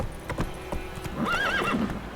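A horse in The Witcher 3 video game clip-clops at a gallop and lets out a loud, wavering neigh partway through, the hoofbeats continuing steadily beneath it at close range.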